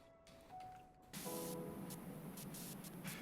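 A pressure washer sprays in the video game Powerwash Simulator 2, starting as a faint hum and then turning into a loud, steady hissing jet with brief pulses and dips, with no voices.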